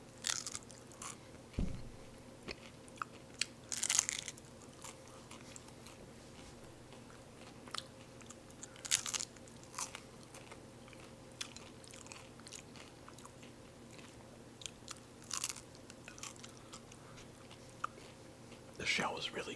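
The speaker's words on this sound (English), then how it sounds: "The shell is really crunchy because I baked it." Someone bites and chews a crunchy baked spaghetti taco shell close up, with several sharp crunches spaced across the stretch and quiet chewing and faint whispery sounds in between.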